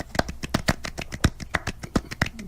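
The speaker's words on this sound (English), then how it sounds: "Here, I'll do a separate clap." A quick run of sharp hand claps, about twenty crisp hits laid down close together in a loose, beat-like rhythm, sounding near and dry with no talking.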